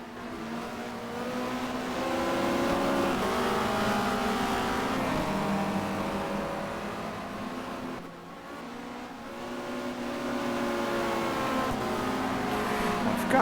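Touring cars race at Barcelona in the 1990 WTCC round, engines droning and shifting pitch continuously as they rev and pass, at steady moderate loudness from a broadcast-style distance.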